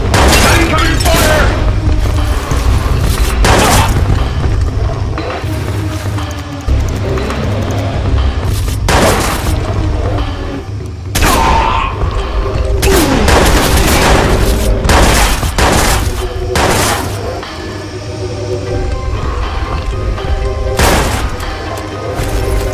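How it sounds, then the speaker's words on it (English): Gunfire and explosions fill a Watch Dogs firefight, with dense, loud, continuous bursts and booms and heavy low rumble throughout, and a voice shouting over the chaos. "Incoming fire!"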